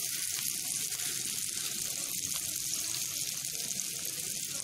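Two medium chopped onions frying in melted butter for chicken soup, a steady bright sizzle filling the whole stretch, close and continuous with no voices.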